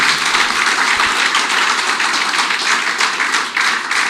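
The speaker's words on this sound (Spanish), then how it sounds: "denle un fuerte aplauso al Señor" A church congregation breaks into loud, sustained applause, dense clapping filling the room steadily and close, with no voices over it.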